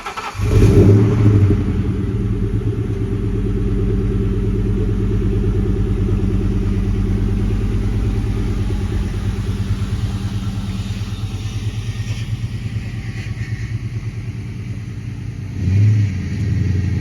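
A supercharged 2003 Ford Mustang SVT Cobra (Terminator) with a Borla exhaust revs loudly and steadily up close, its deep exhaust drone carrying a supercharger whine, with a sharper burst of throttle near the end.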